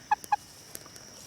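White farmyard chickens, supposed to be White Rocks, give two quick bright clucks close by, followed by a few faint softer clicks and scuffs on a quiet background.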